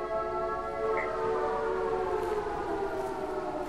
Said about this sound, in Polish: Dlaczego wyje syrena?